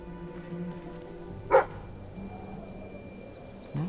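A dog in Fable 3 lets out one brief bark, then a softer second yip a couple of seconds later, over a steady, rain-like outdoor ambience.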